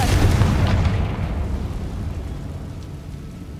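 In Hogwarts Legacy, a Confringo blasting curse explodes with a loud, close boom that rumbles and slowly fades over a few seconds.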